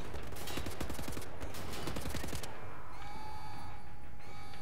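Rapid bursts of automatic gunfire from Wolfenstein: The New Order crackle densely for about two and a half seconds, then stop, leaving a quieter steady tone and faint game ambience.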